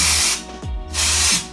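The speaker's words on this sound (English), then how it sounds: "I'm going to do some dry texture spray first" Dry texture spray is misted onto braided hair in two loud, close aerosol bursts of hiss separated by a short pause, with a faint mechanical click between them.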